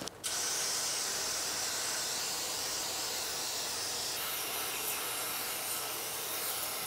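A continuous hiss of Jig-A-Loo lubricant spraying through a wand onto a Singer 348 sewing machine, close by and steady for several seconds without pause.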